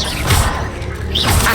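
Incendio fire spell cast in Hogwarts Legacy, a short loud whooshing burst with a crackling impact, close and brief, with no talk.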